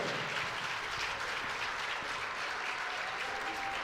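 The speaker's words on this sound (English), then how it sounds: "standing ovation as the seniors Amber Austin and Megan Helmkamp went to the bench on senior night" Crowd in a school gym giving a standing ovation to seniors at a girls basketball game, steady, dense applause filling the whole clip at moderate loudness.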